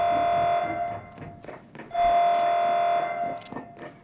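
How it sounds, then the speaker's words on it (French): A loud electronic buzzer alarm in a Watch Dogs 2 mission blares in two long, steady bursts, separated by a short gap, with thumps and game noise mixed underneath. "L'alarme s'est déclenchée."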